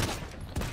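A magic staff fires in the battle royale video game Realm Royale, giving two loud, bursting shots about half a second apart, close and dense, with no talk.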